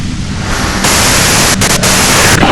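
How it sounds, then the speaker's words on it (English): Loud, dense white-noise static from the video game Disco Elysium, a steady hiss that jumps up in level partway through and briefly drops out a few times before resuming. "you can do it through the white noise"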